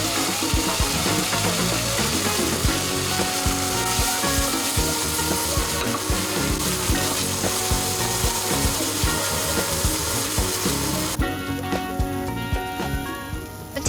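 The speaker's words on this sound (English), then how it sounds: "Stir fry for a little bit, then add in the minced garlic and shallot." Thai chili paste being stir-fried with minced garlic and shallot, a loud, continuous sizzle with scraping and stirring from a utensil against the pan, running steadily throughout.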